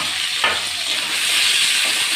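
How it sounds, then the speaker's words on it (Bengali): Sliced onions fry in hot oil toward crisp browned beresta, giving a loud, continuous hiss and sizzle that swells slightly after a small clatter near the start. "তখন আমি পেঁয়াজটাকে ভালো করে ভেজে নেবো, বেরেস্তা বানাবো পেঁয়াজের।"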